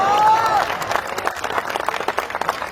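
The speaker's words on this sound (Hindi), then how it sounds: "इस पर तालियां कम बजी आपकी" An audience at a Hindi comedy poetry gathering breaks into lively applause mixed with crowd murmur, loud at first and then continuing as uneven, scattered clapping, with a brief whistle-like tone near the start.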